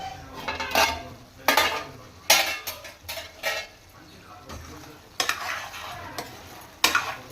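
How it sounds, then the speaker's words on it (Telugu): Chicken sizzles in hot oil while a utensil scrapes and stirs the pan in irregular bursts, close up, with faint talk underneath. "చికెన్ కొంచెం ఆయిల్లో ఫ్రై అవ్వదు. ఇలా మధ్యలో కలుపుతూ చూడాలి."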